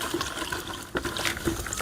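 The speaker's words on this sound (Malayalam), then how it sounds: "വെള്ളം നന്നായിട്ട് ഒഴിക്കണം" Water is poured steadily onto calcium carbide ash in a container, producing a continuous close splashing and gushing flow with small surges, heard alone.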